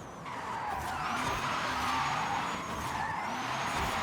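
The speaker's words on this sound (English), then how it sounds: "Now I'm drifting a little better." Tires squeal in a sustained skid as a car drifts in Forza Horizon 5, the steady screech layered over a revving engine throughout, loud and close with no talking.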